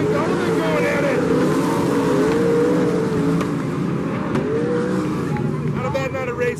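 Sprint cars race around a dry, slick dirt track at Silver Dollar Speedway, their engines roaring steadily and rising and falling in pitch as they pass, with an announcer talking over them throughout.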